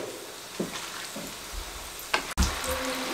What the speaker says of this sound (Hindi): इस तरीके से 3 से 4 मिनट इसका फ्राई टाइम रहेगा, मीडियम टू लो फ्लेम पे